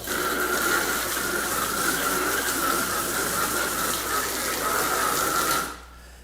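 Water sprays steadily from a Radiator Genie valve, fanning out under pressure, a loud continuous hiss and rush that holds for nearly six seconds before cutting off abruptly.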